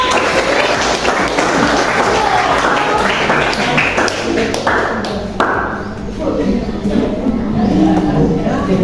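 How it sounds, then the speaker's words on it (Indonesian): Classroom students clap together in a dense, steady patter that runs the whole time, with children's voices mixed in underneath. "Ini Rupi kasih tepuk tangan dulu dong."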